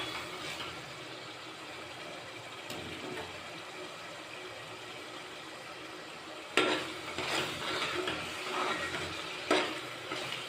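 Coriander and cumin powder fry in oil for a goat head curry, a steady soft sizzle with occasional stirring scrapes that grow louder and busier toward the end, with no voices.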